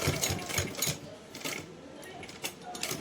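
A sewing machine stitches a small Laddu Gopal dress in quick, rhythmic bursts of whirring, stopping and starting several times close by with only brief pauses between runs.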